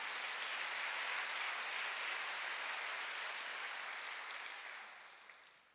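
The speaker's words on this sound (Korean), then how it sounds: "박수." A church congregation claps during a Sunday worship service, a soft, dense patter of applause that holds steady, then gradually fades away over a few seconds.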